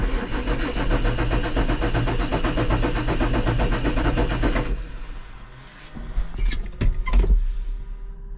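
Massey Ferguson 6480 tractor engine turning over, a steady rhythmic cranking drone for about four and a half seconds that then stops, followed by several clicks and clunks, close and with no talk.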